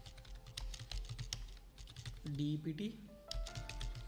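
Computer keyboard typing an SQL insert command, quick irregular key clicks close by, with a brief tonal interruption midway and someone speaking over it.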